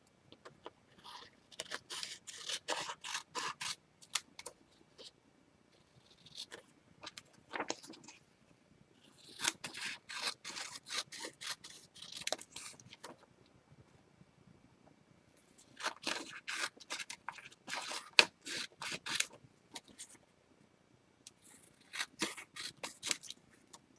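Scissors snip through paper in quick, repeated bursts separated by short pauses, quiet and close, with no talking.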